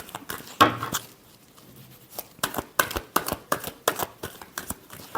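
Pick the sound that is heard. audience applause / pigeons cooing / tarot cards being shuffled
tarot cards being shuffled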